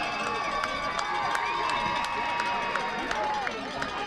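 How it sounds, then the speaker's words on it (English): The ConVal fan section cheers and shouts wildly from across the field during a Kearsarge vs ConVal high school football game, a distant sustained crowd roar with sharp whistles and yells, partly under a commentator talking. "their fan section cheering crazy can be heard from across the field"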